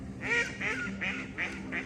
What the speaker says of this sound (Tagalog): Yung mga pato, nandoon sila.